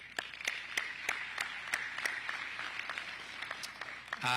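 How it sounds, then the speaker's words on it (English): Sparse, scattered claps from a small, distant audience at an outdoor groundbreaking ceremony, a handful of separate faint hand claps spread over a few seconds before a louder burst at the very end. "just want to give a round of applause for them"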